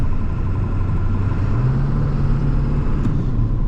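A 1997 Ford F250 4x4 with a Powerstroke turbo diesel, driven on the road, heard as a loud, steady engine drone and road rumble from inside the cab, holding constant throughout.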